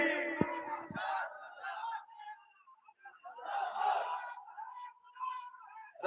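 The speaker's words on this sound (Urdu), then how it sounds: "نعرے تکبیر." A crowd at an Islamic religious gathering shouts the takbir slogan in unison, a loud collective roar in two main bursts with a lone voice leading between them.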